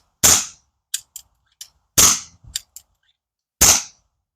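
A pellet gun fires three sharp, loud, close shots spread out over a few seconds, with softer mechanical clicks between them and silence around.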